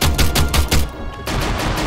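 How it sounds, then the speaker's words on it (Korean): Anti-tank fire in a war video game: a rapid series of sharp, loud shots in quick rhythm, then a brief lull and continued rumbling noise. "대전차 사격."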